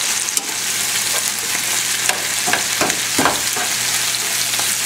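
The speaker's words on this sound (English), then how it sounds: "We just want to warm them through a little bit, let them blister a little bit. Stir them together." Vegetables sizzle and blister in a hot pan with spinach while being stirred, a steady close frying hiss broken by several scraping stirs, with no talk.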